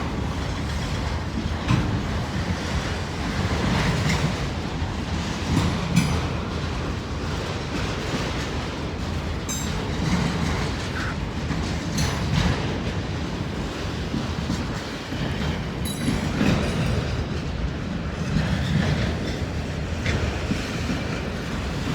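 A long northbound freight train rolls past nearby, its wheels rumbling and clacking steadily across the rails with occasional metallic squeals, loud and sustained with no talking.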